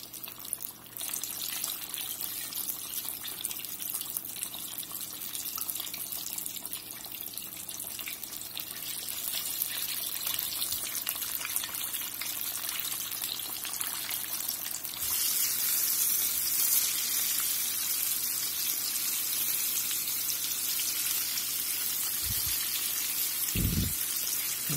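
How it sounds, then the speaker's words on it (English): Battered chicken tenders deep frying in hot oil, a continuous loud bubbling sizzle that swells partway through, with a couple of low knocks near the end. "We're going to let these fry here about 6 minutes until they're nice golden brown."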